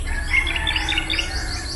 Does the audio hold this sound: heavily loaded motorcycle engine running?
no